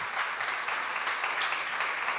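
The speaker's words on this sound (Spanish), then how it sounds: "vamos a levantarle un aplauso a todos los padres que están esforzando" Applause from a church congregation honoring all fathers, a dense, steady wash of many hands clapping at once, continuous and fairly loud throughout.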